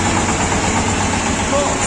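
A mini tractor engine runs steadily at idle throughout, a continuous mid-pitched rumble with a vibrating low end, close and fairly loud, while a voice speaks over it.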